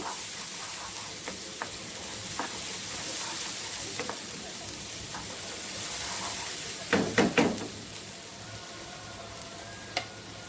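Gongura chicken masala fries in a pan with a steady soft sizzle and hiss, then a few quick scraping stirs in the middle and a light knock near the end, close and moderate in level, no talking.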